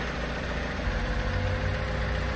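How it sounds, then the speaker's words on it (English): A Vauxhall Corsa engine idles steadily while warming up before an oil change, a low, even mechanical hum heard close with no talk. "Just got the engine running up now, just get it a little bit warm before I drop the oil out"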